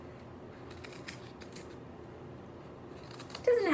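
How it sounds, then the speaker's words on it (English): Scissors snip through a piece of cardboard while a mini loom is being made, a short run of quiet crisp cuts close by, and a faint voice starts at the very end. "So I'm making the snips and I'm trying to make them directly across from the first snips that I made."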